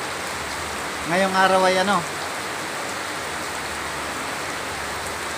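Heavy rain pours in a steady, dense hiss from start to end, and a voice speaks briefly over it near the beginning.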